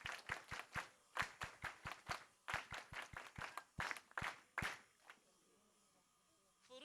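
A church congregation claps in praise of God, sharp rhythmic handclaps close by in a quick even beat that stops after about five seconds, leaving a quiet room.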